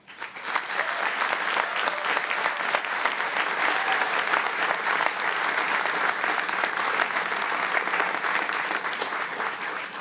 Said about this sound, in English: Please give a round of applause for our master's degree recipients.